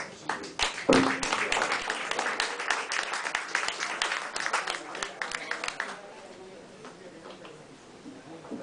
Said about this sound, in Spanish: Vamos a recibir con un aplauso a Rubén Balseiro, Sofía Castillón, Alejandro Cesario y Alicia Pastor.